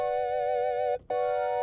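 A reversed bowed waterphone sample from the Arturia Pigments synth gives a sustained, eerie tone that briefly cuts out and swells back in.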